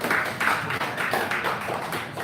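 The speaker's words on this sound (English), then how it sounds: "I want everybody to give a big round of applause for IDCM" Audience applause for the evening's hosts at a FinTech Week event in Hong Kong: a steady, dense patter of many hands clapping, fairly close and continuous throughout.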